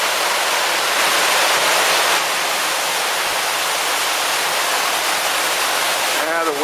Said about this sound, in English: the wind and the waves are still kicking up